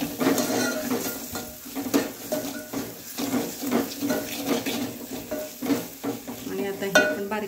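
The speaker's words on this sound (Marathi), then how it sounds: "आणि आता हे आपण बारीक केलेलं ताक ह्यामध्ये होतोया. छान ढवळून घेऊया." A spoon stirs buttermilk into spiced kadhi in a cooking pot, giving repeated close scraping and sloshing strokes with light metallic knocks against the pot, irregular but continuous, without speech.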